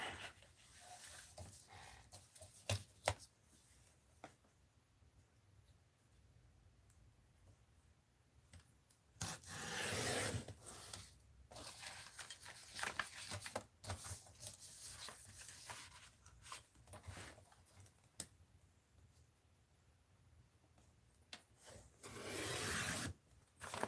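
Paper being trimmed to size for an art journal, heard as soft rasping and rubbing strokes with bursts of louder scraping around the middle and near the end, fairly quiet and close, with no talking.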